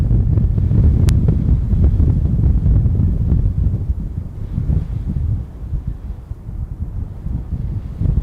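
Strong gusty wind blasts a microphone beside an airport runway, making a loud, continuous low roar and buffeting that rises and falls without a break; no one speaks.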